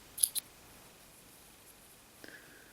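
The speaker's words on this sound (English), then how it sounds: "So now we just want to cut off our yarn" Two quick, faint snips of scissors cutting yarn at the end of a crocheted coaster, then a soft brief rustle in a quiet room.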